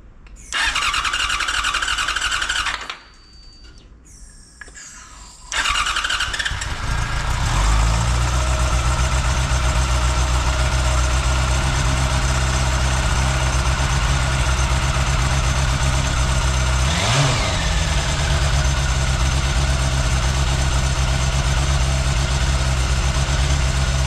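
A Yamaha FZ6 motorcycle, a project bike parked in a garage driveway, cranks over with a whirring starter, falls quiet briefly, then fires and settles into a loud steady idle with one quick rev partway through, heard close with no speech.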